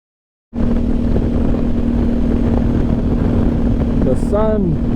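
Several motorcycles ride together through a desert on the way from Bahía de los Ángeles, giving a loud, steady engine drone with a constant low hum that runs without a break, and a short rising whistle near the end.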